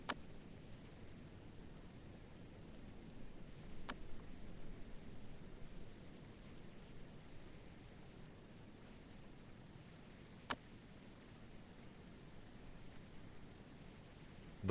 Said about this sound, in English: The rain's a lovely sound